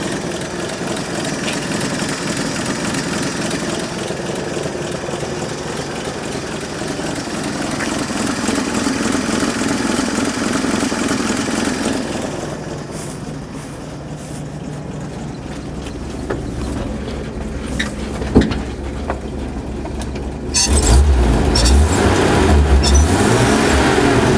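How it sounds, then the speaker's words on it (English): Steady rumble of a 1952 Chevy pickup truck engine idling and running, with a rougher, louder stretch near the end. "Engine's pretty solid. It's not shaking all over the place or anything like that."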